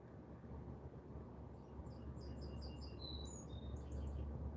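Faint bird chirps and short whistled tweets rise over a steady low rumble, small and distant, in a sparse cluster midway through.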